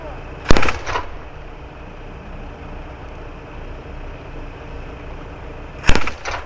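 Gunfire at a military company-level live-fire tactical exercise with an air assault brigade near Brest: two sharp distant shots or short bursts about five seconds apart over a steady rumble of engines and wind.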